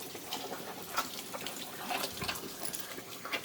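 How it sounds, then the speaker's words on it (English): Water gushes and splashes steadily, rushing through the coolant system of a Mazda RX7 FC during a coolant flush, with irregular bursts and sputters. "this thing seems to be flushing out pretty nice"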